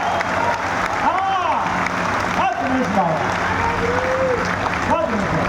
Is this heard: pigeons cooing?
no